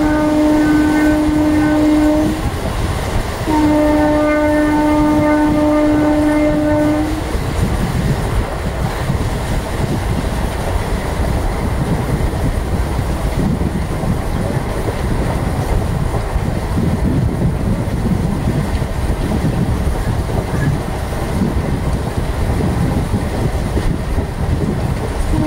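Passenger train 17231 to Narasapur runs at speed through Tenneru halt station, opening with a loud two-part horn blast over steady, loud rumble and rattle of wheels on track that continues throughout.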